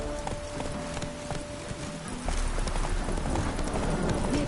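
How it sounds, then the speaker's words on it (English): The horse Roach gallops in The Witcher 3 video game, a fast rhythmic clip-clop of hooves that grows louder midway, close up with faint background ambience. "Run, Roach."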